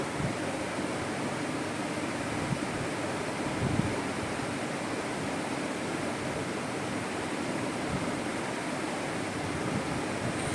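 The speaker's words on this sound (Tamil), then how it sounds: "எண்ணெய் நல்லா சூடானதும் நம்ம ரெடி பண்ணி வச்ச பச்சை பட்டாணி ஸ்நாக்ஸ் ஒன்று ஒன்றா எண்ணெயில் சேர்த்துக்கலாம்" Green peas vada frying in hot oil: an even, unbroken hiss of bubbling oil, moderately quiet and steady throughout, with no voices.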